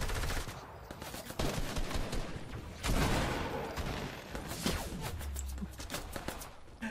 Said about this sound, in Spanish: Me está disparando el otro atravesando todas las ramas, tío.